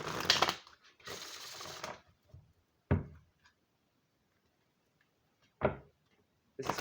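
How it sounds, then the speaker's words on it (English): Oracle cards from a Samhain deck riffled in a bridge shuffle, a long papery flutter followed by a second burst, then a few short sharp card snaps spaced apart in a quiet room. "I need to do bridge shuffle on this one."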